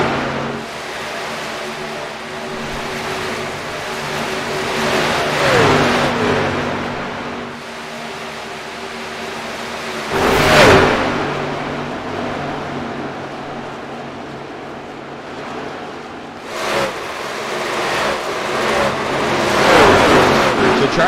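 Racing trucks draft at speed around an oval track, their engines a loud, continuous roar that swells and fades as the pack passes, with several Doppler sweeps as trucks go by the listener.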